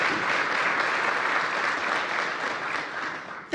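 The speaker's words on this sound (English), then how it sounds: "So let's give them another round of applause." Sustained, loud applause from an audience for a student vocalist and pianist at a university event, dense and even throughout before tapering slightly at the end.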